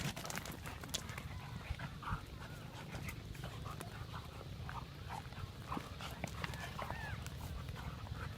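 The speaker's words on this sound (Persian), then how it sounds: "ای دوگیام مست شده." Excited dogs whimper and pant close by during light rain, quick breathy pants mixed with short whines and scattered clicks over a steady outdoor background.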